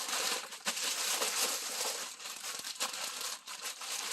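A plastic Shein mailer bag is ripped open by hand, with loud, close crinkling and tearing in irregular bursts and short pauses between pulls.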